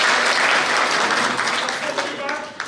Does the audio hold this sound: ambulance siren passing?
no